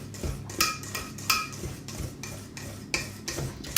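A whisk beating lemon poppy seed batter in a bowl, making rhythmic scraping and clinking strokes, roughly two per second, fairly close and steady with no talk.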